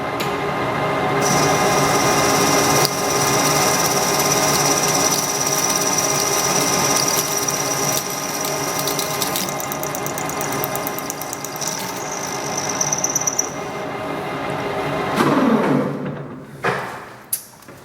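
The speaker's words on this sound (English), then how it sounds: "I think we're ready to bore now." A metal lathe boring out a thrust washer for a wobble drive gives a steady, loud mechanical whine with a high tonal ring, running continuously before winding down with a few clunks near the end.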